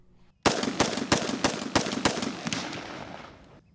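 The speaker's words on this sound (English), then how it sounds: "That's the sound of an AR-15 semi-automatic rifle." An AR-15 semi-automatic rifle fires about seven sharp, loud shots in a quick, slightly uneven rhythm, each crack followed by a short echo, and the sound trails off into a fading reverberant tail.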